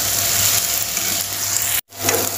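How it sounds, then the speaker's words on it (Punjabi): Spice tempering sizzles steadily in a pan for matar paneer, a dense hiss with faint stirring scrapes, cut by a brief silent gap before the frying noise returns. "ਤੜਕਾ ਹਲਕਾ ਜਿਹਾ ਬਰਾਊਨ ਹੋ ਚੱਲਿਆ ਹੈ, ਅਸੀਂ ਇਹਨੂੰ ਹਿਲਾਉਂਦੇ ਰਹਿਣਾ"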